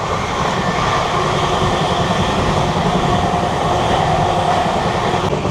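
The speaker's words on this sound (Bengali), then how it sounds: "আর এদিকে দেখা যাচ্ছে ট্রেনও বেশ গতি ধরেছে।" Steel Express passenger train running at speed, a loud, steady rumble and rattle of rolling wheels on rail that holds without a break and with no voices.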